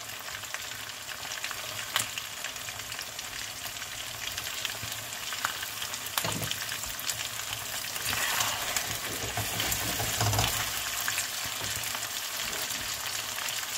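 Chicken and roughly chopped onion fry in a karahi, giving a steady, dense sizzle and crackle that runs throughout with no voices, swelling slightly toward the end.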